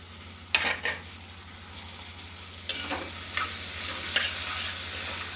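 Chicken pulao masala frying in a covered pot, a steady close sizzle broken by a few scraping stirs, with no voices.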